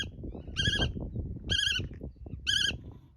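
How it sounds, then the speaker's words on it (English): Birds calling on a spring Sunday morning in Belgium, three clear repeated call phrases evenly spaced about a second apart, ringing out over a low background of other soft activity. "listening to the birds"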